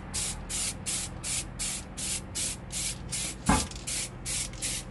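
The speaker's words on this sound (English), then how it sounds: "I'm going to spray it with the grey primer first, do a few coats of that" Rapid bursts of grey primer sprayed from a can onto a BMW F32 Coupe boot spoiler, a steady series of short hissing blasts with brief gaps, one sharper knock midway, no talking.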